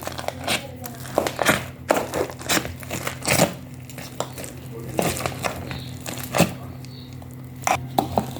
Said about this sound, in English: I preferred mashing this mukimo here on the floor because of stability of the sufuria